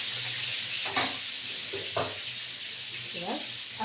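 Pointed gourd fries in oil with salt and turmeric, a steady close sizzle broken by three brief scraping stirs.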